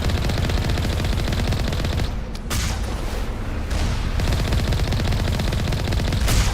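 Alliance turrets fire in Mass Effect Legendary Edition, loud rapid automatic bursts that rattle on almost without a break. A short lull comes early on before the shooting picks straight back up.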